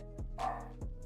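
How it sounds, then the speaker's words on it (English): A dog barks twice, a sharp single bark followed by another about half a second later, fairly close, with a quiet room hum underneath. "Jetson, stop barking."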